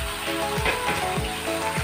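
Half a kilo of chicken pieces sizzling and frying in a pan of pepper gravy masala, with a steady close crackle and a few stirring scrapes, no voices.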